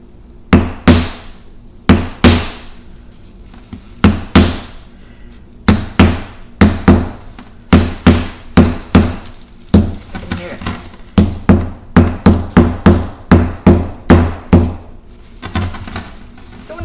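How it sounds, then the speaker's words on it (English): A hammer strikes a concrete vase inside a bag again and again with sharp, loud, irregular blows, each followed by a short crunch of breaking pieces. "I'm going to smash the vase and the bag is going to catch the glass."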